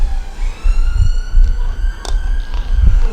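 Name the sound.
siren going past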